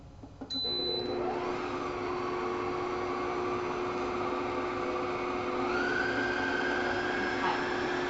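An electric kitchen mixer whirs steadily while mixing s'mores dip, a continuous motor drone with a slight rise in pitch partway through, running alone and close.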